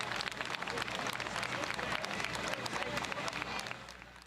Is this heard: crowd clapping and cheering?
yes